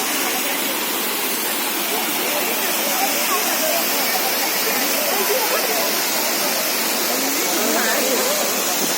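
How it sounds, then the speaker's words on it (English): Cheeyappara Waterfall on the road to Munnar in Kerala, falling from the top with a somewhat reduced December flow, gives a steady, close, broadband rush of water that holds unbroken throughout. "While proceeding to Munnar, you will see a Cheeyappara Waterfall."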